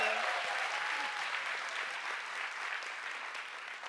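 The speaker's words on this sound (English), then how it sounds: "Warm applause for Mariam." Warm audience applause at a science slam during Berlin Science Week, a steady, even roar of many hands clapping throughout, with a faint voice briefly audible at the start.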